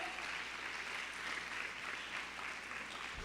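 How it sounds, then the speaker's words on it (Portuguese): Steady congregation applause during a church worship service, soft even clapping from many people that fills the room at a low, distant level without voices. "Você pode aplaudir a palavra do Senhor?"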